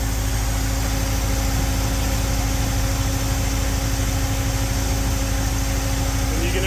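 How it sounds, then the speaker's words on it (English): A Ford 351W V8 in a classic catering truck idles steadily with a constant droning hum and vibration, the pitch edging upward as the idle rises, close and loud with no talk. "And you can actually hear the idle RPM going up."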